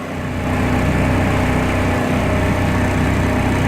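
A two-stroke engine on premix fuel runs steadily at moderate revs, a loud buzzing drone that swells in the first half second and then holds even, with no voices.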